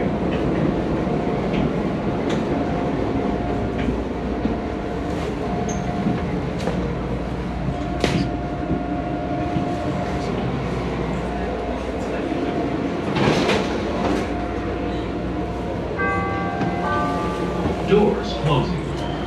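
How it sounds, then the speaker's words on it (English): A Chicago CTA Blue Line train riding toward O'Hare rumbles steadily from inside the car, with clicking wheels and brief squeals over the full stretch and a door chime near the end, heard close and fairly loud under announcement-like speech. "This is a Blue Line train to O'Hare."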